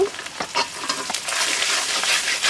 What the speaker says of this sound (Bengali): এখন আমি আবারও খুব সুন্দরভাবে নেড়ে চেড়ে নেব